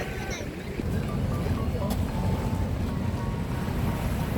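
Steady low rumble of waves washing along a South Korean shore, with wind buffeting the microphone throughout; continuous and fairly loud, no clear individual breakers.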